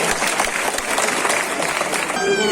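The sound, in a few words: audience applause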